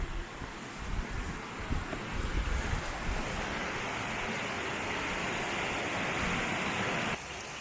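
Mallyan Spout waterfall near Goathland roars steadily as a broad, dense wash of falling water, loud and close, with some wind buffeting the microphone early on.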